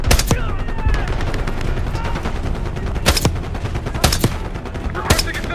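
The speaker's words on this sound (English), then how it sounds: "We've got gunfire to the right." Loud, close gunfire in the Call of Duty: Black Ops 6 video game, with sustained automatic bursts and several sharp, heavy shots punctuating the din of a desert battle.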